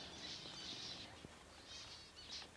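Birds chirp and call in short bursts around a rocky outback well whose trough is full of water, the calls faint and somewhat distant over a low outdoor hush.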